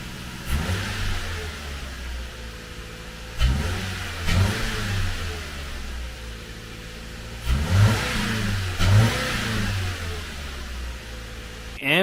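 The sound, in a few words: Subaru Crosstrek/Impreza with aftermarket exhaust revving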